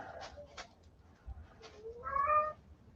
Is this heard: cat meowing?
yes